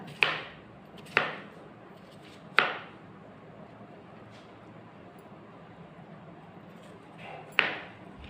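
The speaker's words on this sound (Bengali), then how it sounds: "শসাটাকেও আমি ওই সাইজেই কেটে নেব।" Knife chopping cucumber on a board for a salad: four sharp, separate cuts spaced a second or more apart, with a long pause before the last one, close and clear with no talking.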